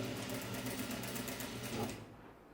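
A sewing machine runs steadily and close while stitching the seam of an ao dai, then stops near the end, leaving a faint hum.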